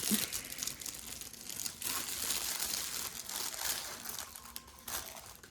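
Plastic packaging of a diamond painting kit being opened, with steady close crinkling and crackling plus a few sharper tearing bursts throughout, and no voices.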